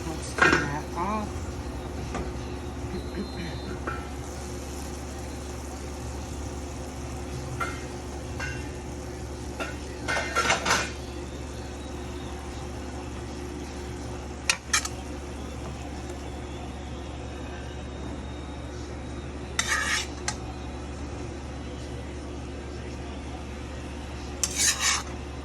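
Dishes, pots and cutlery clink in scattered bursts while shrimp stir fry cooked in a new wok is plated, over a steady low hum, with a few brief scrapes and knocks.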